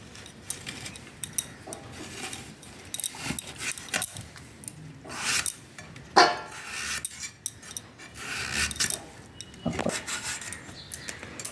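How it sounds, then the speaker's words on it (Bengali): A knife scrapes and rasps along a pumpkin as its skin is peeled, a run of irregular scraping strokes and small clinks at close range, with no one talking. "প্রথমে খোসাগুলো আমি উঠিয়ে নিচ্ছি"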